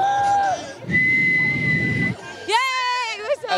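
A person whistles a bright, sustained tone, then a bubbly, sloshing noise follows, and a rising, wavering whistle closes the sequence alongside background chatter.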